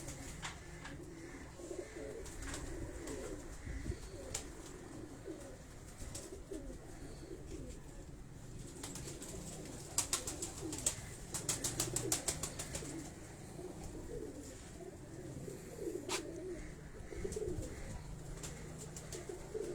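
Male pigeon, a breeder's flying bird in Karachi, cooing in soft repeated phrases amid other birds and rustling in a loft, moderately near, with occasional sharper chirps overhead.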